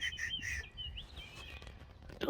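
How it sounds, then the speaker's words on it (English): Birds chirp and trill outdoors at a wild camp by Bagmoor Mines, Winterton, a few clear calls near the start fading into softer, more distant song over a low background rumble, with no traffic noise. "All you can hear are birds."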